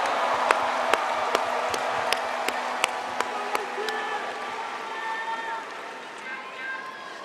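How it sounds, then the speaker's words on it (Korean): A crowd at a Democratic Party convention claps in sharp, evenly spaced unison beats that start crisp and gradually loosen into a softer, scattered patter, heard from a moderate distance. "다시 한번 큰 박수 부탁드립니다."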